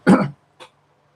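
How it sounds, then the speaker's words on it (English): One gruff throat clearing, close and fairly loud, followed by a faint short second rasp and then quiet. "clear my throat"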